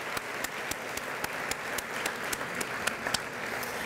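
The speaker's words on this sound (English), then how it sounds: "Let's have another round of applause for Pam Maples and all of the support staff" Audience applause at a schools awards evening, a steady wash of clapping from a crowd with a few sharper, evenly spaced claps standing out, moderately distant and without speech.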